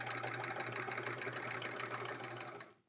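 A home sewing machine stitches steadily during an embroidery and quilting-style project, a close, even mechanical whir with a low hum that runs continuously before tapering off at the end.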